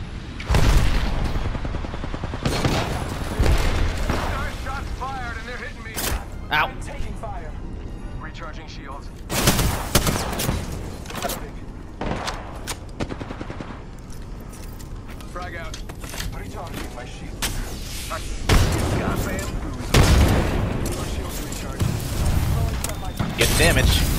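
Gunfire and a grenade blast in a squad shooter on the Winter Express: loud, dense bursts of rifle and machine-gun fire with heavy booms, under frequent voices talking over the chaos.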